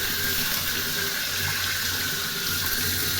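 Tap water runs steadily into a sink as hands are rinsed under it in a home kitchen during cooking, a constant close hiss of flowing water with no talking.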